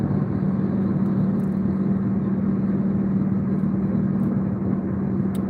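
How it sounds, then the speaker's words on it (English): A dump truck rumbling past with its music turned up and heavy bass, a continuous loud low drone and whir of engine and thumping bass filling the scene without a break. "They're driving a dump truck of some sort and they got the music up with the bass loud."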